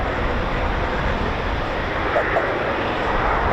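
Eurofighter Typhoon FGR4 jets at RAF Coningsby, a loud, continuous broadband engine roar that holds steady throughout without letting up.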